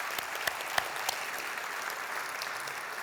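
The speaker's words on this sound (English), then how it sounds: "Let's give them another round of applause, please." An audience at a State of the City address applauds the city's police and fire department honor guard, a sustained, even roar of many hands clapping with a few distinct sharp claps near the start.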